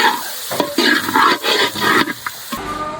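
Beef varattiyathu stirred in a pan of hot coconut oil, a close, busy sizzle with repeated scraping strokes of the spoon over about three seconds, ending in a quieter tail.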